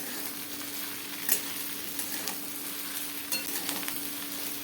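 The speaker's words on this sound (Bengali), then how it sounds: "ভেন্ডি ভাজা কিন্তু ঢাকাও যাবে না, তো এইভাবেই নাড়াচাড়া করতে হবে।" Okra fries in a pan with a steady, even sizzle, broken by occasional soft spatula scrapes and taps as it is stirred.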